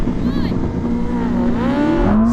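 A Ferrari SF90 and a BMW M superbike launch side by side in a drag race, engines roaring loud and near as their pitch climbs sharply through the revs, with a voice partly audible over the noise.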